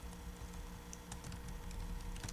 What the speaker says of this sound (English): Can't see what I'm typing.